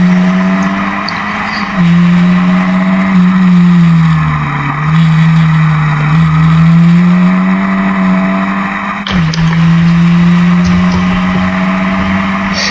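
Historic Formula Ford race cars circuit at Brands Hatch in 2014, their engines a loud, close, continuous drone with pitch dipping and rising as a queue of cars runs together, and a sharp shift near the end.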